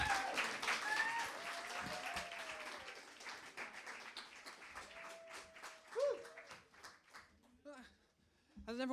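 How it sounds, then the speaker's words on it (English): An audience claps and applauds at a spoken-word poetry evening during the Homotopia Festival, a steady patter of many hands with a voice talking over it and the clapping thinning toward the end. "Keep the applause going."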